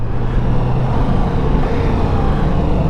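A 2023 Ducati Multistrada V4 S motorcycle engine drones loud and steady up close under heavy wind rush, with the gear-change blips hard to pick out.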